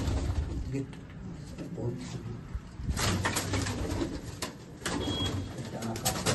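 Bred pigeons in a home loft cooing in soft, low, repeated calls close by, with occasional rustling and fluttering and people talking nearby.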